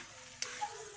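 Tilapia frying in a pan, a steady low sizzle running throughout with a brief sharper crackle partway through, close and fairly quiet, no talking.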